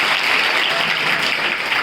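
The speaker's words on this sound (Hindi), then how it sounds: "डबल ताली बजाइए इस बच्चे के लिए।" A school audience claps for a student during a Hindi fortnight event, a brief burst of dense, steady applause filling the room.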